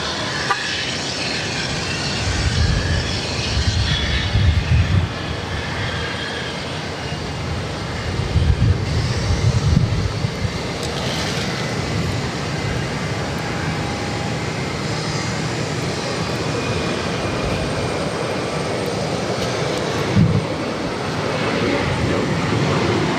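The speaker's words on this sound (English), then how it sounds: "This is JetBlue Airways 1324 taking off to Martha's Vineyard on an E190." A JetBlue Embraer E190 takes off from Boston Logan, its jet engines giving a steady, broad, distant roar that swells slightly in a few surges and holds throughout, with no talking.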